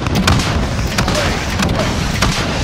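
A helicopter gunship in Call of Duty: Modern Warfare firing on troops on a tarmac, a dense, loud, continuous roar of heavy cannon fire and impacts that sounds close and overwhelming throughout.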